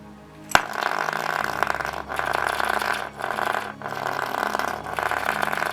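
The small electric motor of a Hornby model locomotive, a BR Class J15, runs with a steady mid-pitched whir that starts after a sharp click and continues with slight dips in level.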